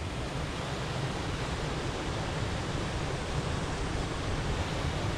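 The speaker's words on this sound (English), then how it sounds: "Well, I made it to the waterfall." A partly frozen waterfall roars as a steady, broad rush of falling water, constant and fairly close, with no voices over it.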